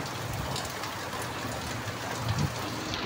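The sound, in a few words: heavy rain falling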